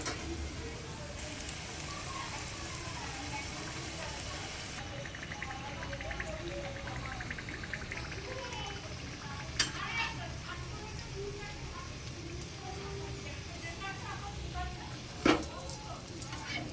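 Paneer pieces fry in hot oil with a steady, dense sizzle that continues throughout, broken by a couple of sharp pops.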